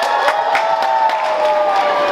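A comedy club audience cheers and claps together, a sustained crowd roar with scattered whoops and bursts of clapping rising over the steady noise, close and fairly loud throughout.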